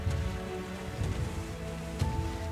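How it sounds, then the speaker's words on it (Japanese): Heavy rain falls as a steady hiss in the video game Rime, beneath sustained, swelling musical tones. "めちゃくちゃ雨降ってっけどね。"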